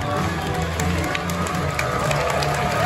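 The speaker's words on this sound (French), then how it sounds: "applaudissement." An audience at a hypnosis stage show applauds, with steady crowd clapping and some cheering under a murmur of voices.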